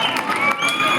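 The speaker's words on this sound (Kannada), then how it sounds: "ಒಂದು ಬಾರಿ ಜೋರು ಚಪ್ಪಾಳೆಯೊಂದಿಗೆ ಎರಡು ತಂಡಕ್ಕೆ ಅಭಿನಂದಿಸಬೇಕು." A crowd at a boys' mat kabaddi match at Soragoan Kabaddi Vaibhava 2025 cheers and applauds for the two teams, a dense roar of voices with shouts rising above it.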